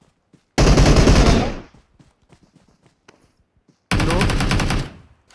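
Automatic gunfire from the mobile game PUBG Mobile on the Sanhok map comes in two loud sustained bursts, with sparse faint single shots or clicks between them and a brief spoken word.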